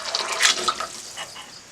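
Water pours steadily into a pot of rice for mint pulao, a splashing, bubbling stream that is moderately loud and then tapers off.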